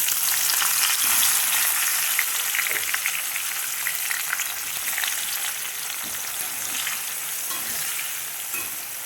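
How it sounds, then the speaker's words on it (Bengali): Cut onions frying in oil with dry red chilli, bay leaves, cardamom and cinnamon for biryani: a loud, even, close-up sizzle with a fine crackle that holds steady throughout, with no voices. "আর এর মধ্যে যে পেঁয়াজ কেটে রেখেছি,"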